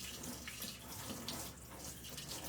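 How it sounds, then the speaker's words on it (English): Tap water runs steadily into a sink as a paint brush coated in patina paint is rinsed beneath it, a continuous close hiss and splash with no talking. "I'm going to go wash this brush really quick."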